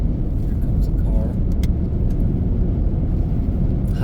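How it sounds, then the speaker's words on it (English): A car on a dark highway heading north in Canada, a steady loud road rumble with a rising whoosh as the vehicle approaches, heard from inside a moving vehicle. "Here comes a car."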